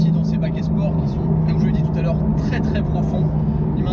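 A Porsche GT3 Touring's engine drones steadily from inside the cabin while driving in third gear, a constant loud hum with someone talking over it.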